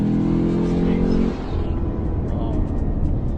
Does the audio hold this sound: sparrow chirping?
no